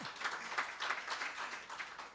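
A crowd at an agricultural department summit clapping, a steady wash of many hands at a moderate level, with no voices over it.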